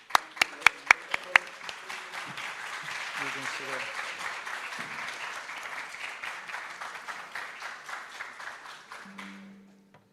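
Audience applause at an international information management congress, opening with a few loud separate claps and then swelling into steady crowd clapping that fades near the end, with people speaking over it.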